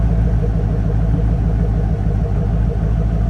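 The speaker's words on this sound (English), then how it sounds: "Lovely exhaust rumble." A 1990 Corvette convertible engine idles with a loud, steady low exhaust rumble close by, continuous with no talking.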